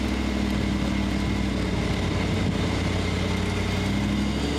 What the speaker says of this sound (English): this one, of course, is running the 4-litre Lexus V8